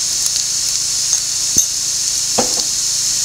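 Turmeric, chili and pepper powder sauté in a hot pan with a loud, constant hissing sizzle, and a couple of soft stir scrapes stand out faintly, with no voices.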